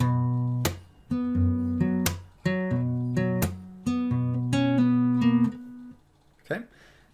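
Fingerstyle acoustic guitar plays a slow passage, with plucked bass notes and chords in an uneven rhythm, close and clear, then ringing out before a short final strum.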